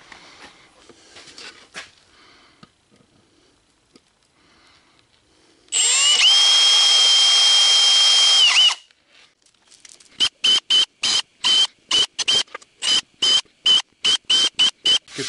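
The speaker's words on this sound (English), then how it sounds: "We're gonna drill these holes out." A power drill with a 5/16 bit bores holes in a light switch cover plate: one sustained high whine lasting about three seconds, then a rapid series of short, sharp bursts, loud and close, with no talk.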